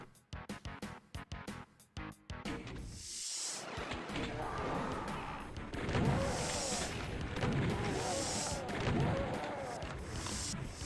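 Chaingunner enemy firing in Doom's Plutonia, rapid bursts of gunfire with heavy booming impacts, opening in a fast staccato string then continuing as dense rolling blasts with echoing explosions.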